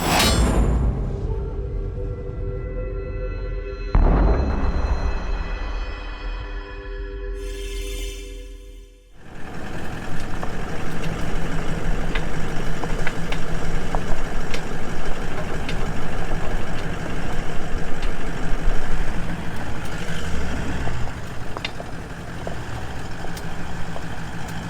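A Toyota Landcruiser 200 with a worn universal joint in its driveshaft, heard while driving as a loud, steady drone with faint rhythmic ticking, after a few seconds of quieter, uneven rumbling at the start.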